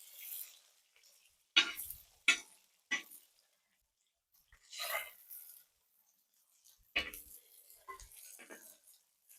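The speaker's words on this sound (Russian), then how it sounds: "А здесь жарим лук." Onion fries on a saj over an open fire, with soft intermittent sizzling and sharp scraping stirs coming in brief bursts, quiet and close.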